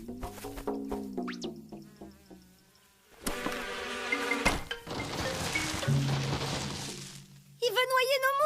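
Cartoon flies from Trolls de Troy buzz in a swarm amid lively music, whistling tones and brief voices, with one sudden crash partway through.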